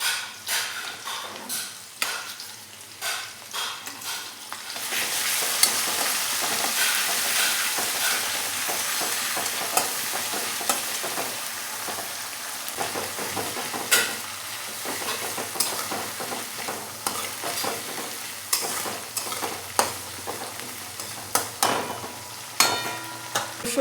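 Onion and ginger-garlic paste fry in a pan, a loud steady sizzle that swells as the ingredients go in, broken by scraping stirs and clinks of a utensil, with no voices.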